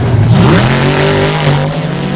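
A Pontiac Silverdown monster truck in the video game Monster Truck Destruction roars at full throttle, its engine note climbing and then holding a loud, sustained drone through the whole stretch.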